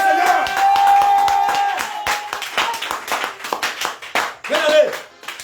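A congregation at a French-language combat prayer service claps in rapid, uneven bursts, mixed with loud voices and shouts of praise from the crowd.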